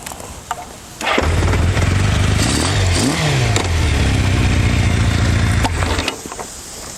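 Kawasaki KZ650 motorcycle engine, a classic 650 cc four-cylinder, starts up after a quiet second and runs loudly at close range, holding a steady idle with a brief rev before cutting off near the end.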